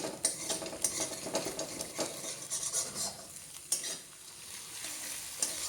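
Egg and onion frying in a pan, a bright steady sizzle with scraping and clinking of a spatula stirring through it, close up and fairly loud, no voices.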